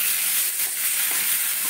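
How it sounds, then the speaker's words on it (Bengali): Raw poppy seeds stirred in a frying pan, a steady bright sizzle and hiss filling the short stretch, close and continuous with no voice. "কাঁচা পোস্তটাকে একটু নাড়িয়ে দেবো।"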